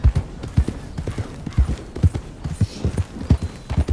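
Horse hooves clip-clop in steady paired beats in Red Dead Redemption 2, loud and close, with soft voices faintly underneath.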